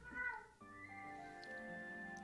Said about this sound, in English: Cat, why are you screaming?